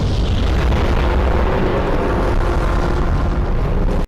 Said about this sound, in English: whose rockets cause massive explosions on the hills